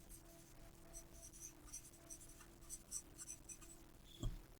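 A pencil scratches across paper in quick, faint strokes, with short bursts of scribbling repeating for several seconds. A soft knock comes near the end.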